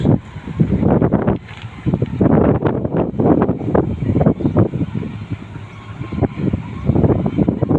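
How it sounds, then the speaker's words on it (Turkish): Strong, gusty wind on the Saros Gulf coast in Turkey buffets the microphone in loud, rumbling bursts that rise and fall throughout, with no voices. "Rüzgarlı bir hava var."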